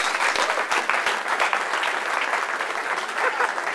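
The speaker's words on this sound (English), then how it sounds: "let's give these guys one more round of applause" An audience gives a lively round of applause after a group of presenters is thanked. The clapping is close, dense and sustained, with a faint crowd murmur underneath.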